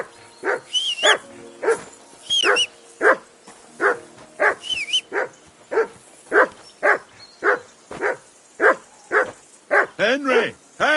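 Hound in the Kingdom Come medieval game barks insistently, a long regular series of sharp, close woofs, the last few breaking into a quicker whining yelp.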